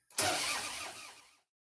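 A rebuilt Harley Davidson motorcycle engine fires up on its first start, a short loud burst of rough engine noise that runs for just over a second and then abruptly cuts off into silence.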